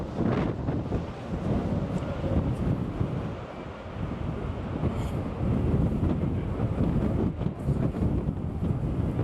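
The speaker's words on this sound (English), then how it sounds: "It's so windy today." Strong wind buffets the microphone on the open pool deck of the MSC World Europa cruise ship, a loud, continuous rumbling roar with gusty swells and no talk.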